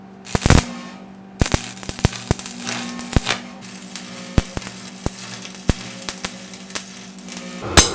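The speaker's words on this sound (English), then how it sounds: "I'm gonna go weld these bits onto each corner" Corner pieces are welded onto a steel swage block stand, giving crackling, sizzling arc bursts in short runs with gaps, interrupted by sharp snapping clicks, up close with no speech.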